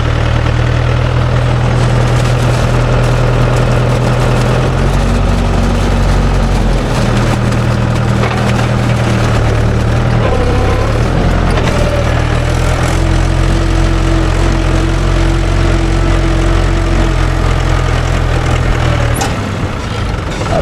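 Mahindra tractor diesel engine running close by, a loud steady low chugging drone that shifts pitch slightly as it idles and revs, continuous for about twenty seconds with no voices.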